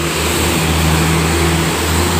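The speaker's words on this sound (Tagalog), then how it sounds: "Naku, ang dami sasakyan." Heavy traffic streams along Repulse Bay Road on a busy Sunday, a steady loud roar of cars and engines with a low hum and no gaps.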